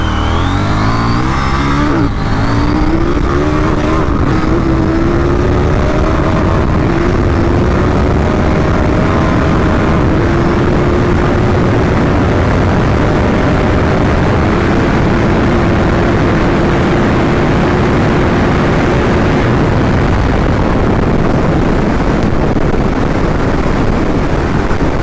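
A KTM Duke 790 motorcycle accelerates hard toward top speed, its engine note climbing steadily with loud, continuous wind roar dominating throughout, no voices.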